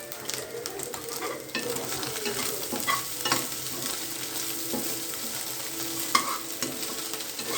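Chillies frying in oil in a pan give a steady close sizzle with stirring scrapes and a few clinks of a utensil. No voices.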